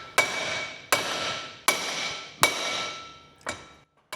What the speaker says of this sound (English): we're just using the edges of the vise and then hammering the drive shaft